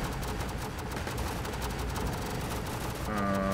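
Continuous rattling machine-gun fire from a machine gunner unit in the tower defense game Northend Tower Defense, a dense unbroken barrage of battle noise with a tonal game cue near the end.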